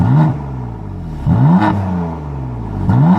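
BMW M3 in Silverstone with black wheels revving hard in three sharp, rising bursts, each dropping back to a throaty idle, with loud exhaust close by.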